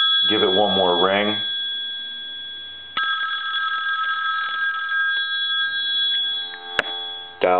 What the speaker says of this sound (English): Give it one more ring.